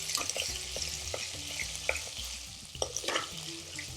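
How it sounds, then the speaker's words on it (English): Dried fenugreek leaves (kasoori methi) frying in a hot Madras curry, a steady close sizzle with scraping stirs of a spoon through the pan. "now I'm just putting in the Kasoori Methi, the dried methi, and we're just going to cook that out for a few seconds"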